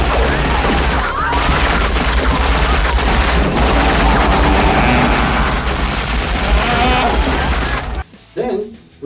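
Dense film-scene gunfire as a vampire is riddled with bullets, a loud continuous barrage of shots and crashing impacts with talk mixed in, cutting off abruptly near the end.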